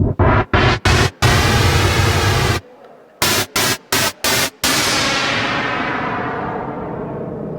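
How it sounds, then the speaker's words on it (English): A Moog Minimoog Model D synthesizer's white and pink noise source hisses loudly in broadband bursts, switching rapidly on and off in a choppy rhythm, then holds a steady wash that slowly darkens and fades. "Classic white and pink noise source."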